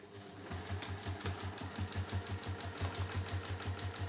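A sewing machine stitches through the layers of a tote bag in a quick, even run of mechanical thumps, close and fairly quiet, with no talking over it.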